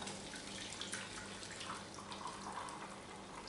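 Blended red cabbage liquid pours through a strainer into a jug, a steady, soft, continuous splashing rush that holds at the same level throughout.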